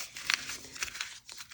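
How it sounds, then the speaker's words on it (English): A paper prayer page is crumpled by hand in a quiet setting, giving a few soft crinkling bursts spread over a second and a half. "I'm kind of giving it over and I just crumple it up."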